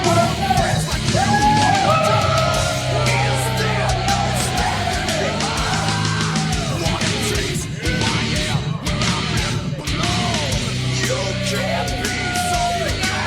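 A wrestling crowd roars and yells nonstop in support of Killer Kevin Roberts at a Big Ben Bloodsworth versus Killer Kevin Roberts match, with loud overlapping shouts and whoops filling the arena throughout.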